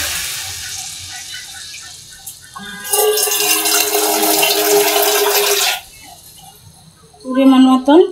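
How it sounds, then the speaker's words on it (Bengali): Water pours into a pot of simmering soybean and potato curry, a steady loud splashing stream lasting about three seconds that then stops, with brief sizzle and clatter around it. "এখন এটার মধ্যে পানি দিয়ে দিতেছি।"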